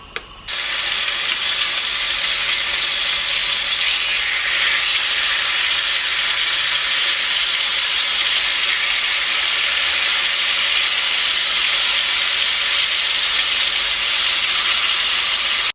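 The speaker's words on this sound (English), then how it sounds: "it's time to fry this beef by using" Marinated beef frying in sunflower oil for Filipino bistek Tagalog, a loud, steady, close hiss and sizzle that holds without pause from start to end, with no voices.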